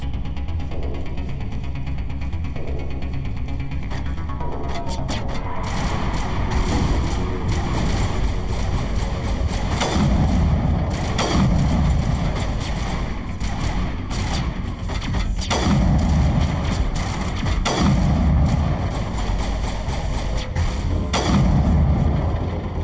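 Gunfire rattles through a combat scene in the video game Mass Effect Legendary Edition, with repeated booming shots and heavy impacts arriving in bursts over a dense, continuous backdrop of in-game noise.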